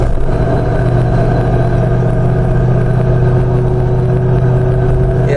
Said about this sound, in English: And that's what the V8 is going to do for you.